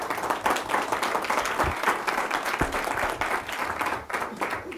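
A small group gives a little round of applause during a school district superintendent's report, a dense, steady patter of hand claps of moderate loudness that runs throughout without a clear beginning or end.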